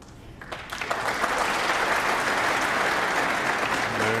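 A snooker crowd at Alexandra Palace in London breaks into applause that quickly swells to a sustained, even clapping, heard from a moderate distance.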